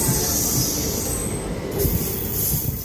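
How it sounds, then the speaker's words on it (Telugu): A train rumbles through Sattenapalli railway station, a steady low rolling drone with faint wheel squeal and metallic high tones above, moderately loud and without talk. "చాలా అధునాతనంగా తీర్చిదిద్దారు సత్తెనపల్లి రైల్వే స్టేషన్ని"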